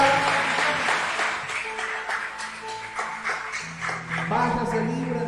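Church congregation applauding during a Spanish-language worship service, a steady wash of clapping under music and a speaking voice throughout.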